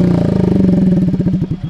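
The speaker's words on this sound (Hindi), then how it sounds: "दूसरा ऑस्टिन रेसिंग है, इसका भी सुन लो साउंड कैसा है" A TVS Ntorq scooter fitted with an Austin Racing exhaust revs hard close by, its loud, rapid pulsing exhaust note rising and falling in quick bursts.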